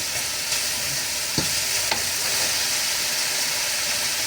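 Bean sprouts sizzle and fry in a pan on a home stove, with a steady loud hiss and a couple of sharp stirring scrapes, close by and without talk.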